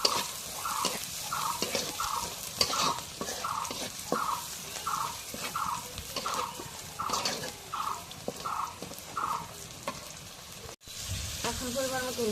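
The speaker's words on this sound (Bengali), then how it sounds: "এখন একটু নাড়া দিয়ে দিই।" Spices frying in a pan are stirred with a steady rhythm of about a dozen evenly spaced scraping strokes over a soft sizzle. A short pause comes near the end before the sizzle resumes.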